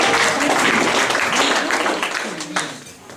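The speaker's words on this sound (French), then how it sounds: "si nous pouvons les acclamer" A church congregation applauding during a service, a loud dense burst of clapping that thins and tapers off toward the end while a voice speaks over it.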